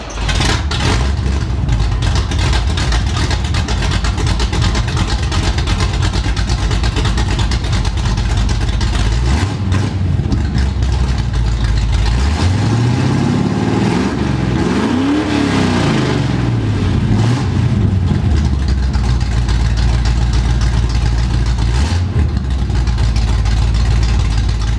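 A Chevy C10 squarebody with a nitrous 305 V8 and header extensions rumbles steadily and loudly up close, with a rising and falling rev in the middle of the idle.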